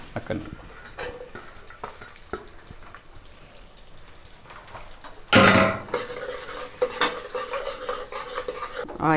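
Thinly sliced onion drops into hot peanut oil, setting off a sudden loud burst of sizzling that settles into steady frying with utensil clinks, after quieter stirring and clatter.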